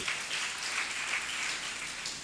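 A church congregation claps together in praise during a Telugu Christian sermon, a steady, dense wash of many hands that runs unbroken for a couple of seconds with no one speaking.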